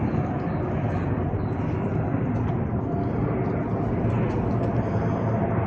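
An airplane drones overhead as a steady, broad roar that stays at a constant level throughout.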